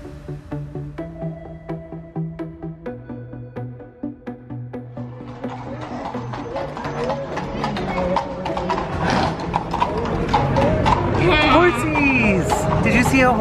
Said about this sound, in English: Horsies! Did you see a horse?